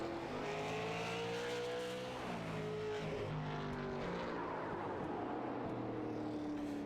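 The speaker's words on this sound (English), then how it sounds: "The 18 machine of AJ Hamill rolling out." A stock race car engine drones on a short oval track in a URL all-star event, a steady roar with pitch rising and falling through the laps, distant and fairly faint, with no talking.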